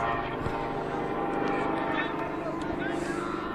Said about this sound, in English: we got a low-flying helicopter coming in right here over the field. You can hear it.